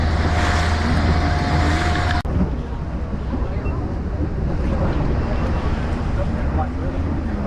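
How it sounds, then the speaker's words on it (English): A tour boat on the Rhine near the Rhine Falls in Switzerland speeds up, with a steady engine and water rush blended with strong wind buffeting the microphone throughout. "the boat is starting to speed up near the Rhine Falls"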